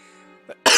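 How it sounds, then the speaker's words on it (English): A single sharp cough bursts out loud and close right at the end, following a faint throat sound and a lingering musical tone. "Oh man, I'm coughing."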